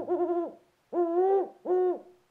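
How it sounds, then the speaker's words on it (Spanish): A great horned owl gives three deep, hollow hoots, the first wavering and the next two long and steady, close and clear with short pauses between and no other sound. "Y ahora te platicaré específicamente de todas las cualidades del búho cornudo, el cual es mi ave favorita."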